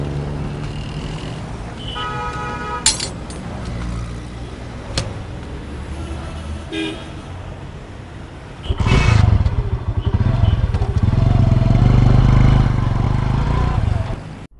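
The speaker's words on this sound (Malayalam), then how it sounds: "ആ, ഈ ബൈക്കാണ്. ഓടിച്ചോളൂ," A motorcycle is ridden, its engine building into a loud, steady low roar in the second half, with people talking and scattered clatter before it.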